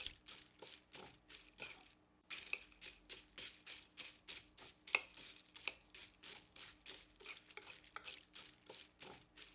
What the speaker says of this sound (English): Mixing slowly but thoroughly.